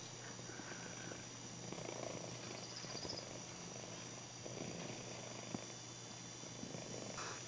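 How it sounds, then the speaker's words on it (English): A domestic cat purrs close by in a steady, continuous low rumble that runs throughout, over faint background ambience with no talking. "We have a little bit of cat interference here."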